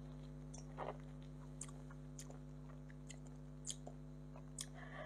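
A miracle fruit berry is bitten and chewed close to the mouth, making faint, irregular wet crunches and squishes over a low steady hum, with no talking.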